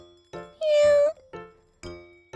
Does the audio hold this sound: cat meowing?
yes